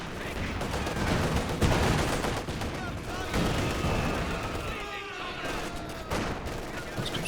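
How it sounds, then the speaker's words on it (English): An MG42 machine gun rattles away at long range in Company of Heroes 2, mixed with other rifle and gun bursts in a busy battle; steady crackling fire under dense combat noise with some voice over it. "MG42 softening them up from long range"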